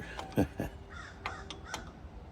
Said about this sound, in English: I hear you over laughing, Mr. Crow